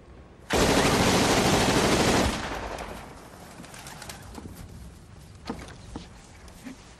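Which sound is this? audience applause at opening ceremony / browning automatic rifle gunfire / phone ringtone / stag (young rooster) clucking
browning automatic rifle gunfire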